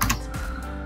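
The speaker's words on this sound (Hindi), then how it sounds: "यहाँ पर हम टाइप करेंगे" A few quick keystrokes on a PC keyboard enter a web address into Google Chrome, close and brief, with clicks bunched at the start over a faint background hum.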